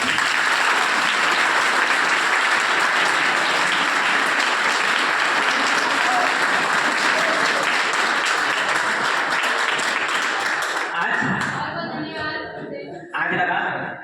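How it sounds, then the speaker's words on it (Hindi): Loud, sustained applause from a large student audience fills the space without a break, then thins out near the end as the clapping fades and a few voices come through. "तो जोरदार तालियों से सबसे पहले"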